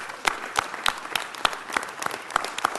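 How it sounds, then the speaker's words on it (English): A city council meeting audience claps in a brisk round, individual claps distinct and spaced in a loose rhythm, moderately loud with no talk over it. "Let's give him another round of applause."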